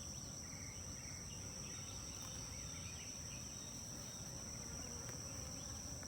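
Honeybees buzz softly around an open beehive during a frame transfer between two hives, a faint steady outdoor drone with a high insect whine running throughout.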